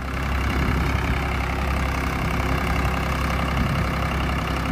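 A Swaraj 735 tractor engine runs at low throttle in a wet field, a steady, unbroken diesel chug that stays close and constant throughout with no voices.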